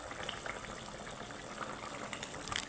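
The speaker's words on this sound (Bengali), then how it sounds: "ঝোলটাকে ফুটিয়ে নিয়েছি, নামিয়ে নেব" Fish curry gravy with potatoes bubbling in a pot, a close, continuous low burble of boiling liquid with small pops and splutters rising near the end.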